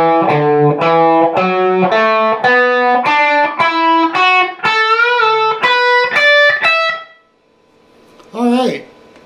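Distorted electric guitar plays the closing lick of a song: a rapid run of picked notes climbing in pitch, loud and up close, a brief pause, then one final bent note.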